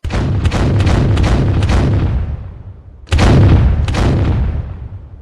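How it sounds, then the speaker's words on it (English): Two big cannon blasts, each a loud boom followed by a long decaying roar, the second coming about three seconds after the first. "Fire the cannons."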